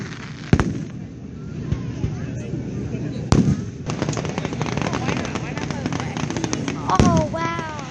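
Fireworks burst outdoors with sharp loud bangs, crackling and whistling rockets, with people talking and exclaiming throughout.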